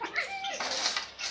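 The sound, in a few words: cat meowing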